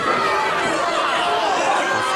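Crowd at the Caboose wrestling venue, a continuous murmur of chatter and crowd noise at moderate level, without distinct cheers or chants.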